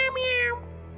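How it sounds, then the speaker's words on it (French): A cartoon cat lets out a single drawn-out meow, bright and tonal, loud up front and then tapering off as a low background hum carries on, from a French-dubbed animated football series. "je crois que c'était qu'un petit chat"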